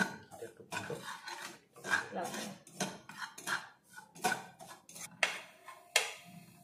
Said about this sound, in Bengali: একটু সুজি নিয়ে ঘি দিয়ে একটু ভেজে নিচ্ছি।